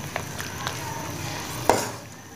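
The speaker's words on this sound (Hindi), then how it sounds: "अब हम छुआरों को 1 से 2 मिनट के लिए अच्छे से भूनेंगे घी में" Dried dates roasting in ghee give a continuous soft sizzle with occasional stirring scrapes and one sharper clink near the end.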